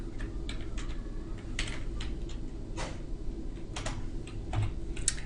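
Close computer keyboard typing comes in short bursts of light key clicks, some sharper than others, over a steady room hum with no voices.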